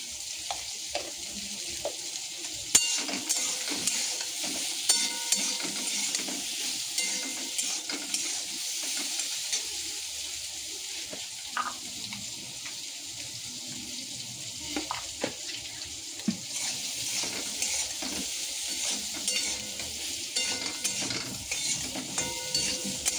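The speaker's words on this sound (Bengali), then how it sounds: "লাল লাল করে আমার মাছ ভাজা জাস্ট তৈরি" Fish fries in hot oil in a pan, a steady close sizzle broken by scattered stirring clicks and occasional water-like splashes, with no talk.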